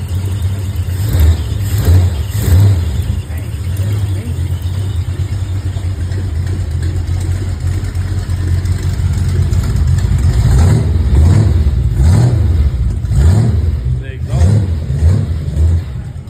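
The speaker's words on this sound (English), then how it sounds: "Belt squeaking a little because we spilled some coolant on it, but we got no exhaust leak." A 1965 Ford Falcon engine runs steadily at close range with a low rumble, while a faint squeak from a coolant-soaked serpentine belt recurs over it and voices talk in the background.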